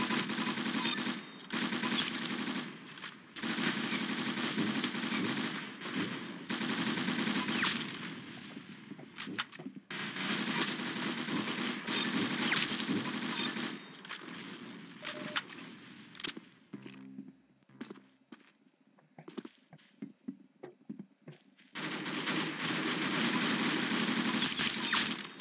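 Rapid automatic gunfire in the Roblox game Arsenal, dense bursts of shots filling long stretches, broken by a quieter gap with scattered single shots before the firing resumes, no talk.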